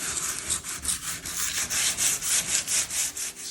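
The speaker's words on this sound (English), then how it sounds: "So we'll sand it a little bit, and then we'll also do a little cleaning after to get all the dust off." Surfaces of a gas dryer are lightly sanded by hand to take off paint, making a steady back-and-forth rasping rub with about four strokes per second. The sound is close and loud throughout, with no talking.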